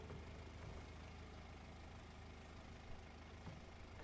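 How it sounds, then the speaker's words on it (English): A low, steady engine drone rumbles through a Silent Hill game scene, a constant mechanical hum like a lawnmower or idling motor, faint and unbroken for the whole stretch with no talk. "It sounds like someone's like running a lawnmower or something."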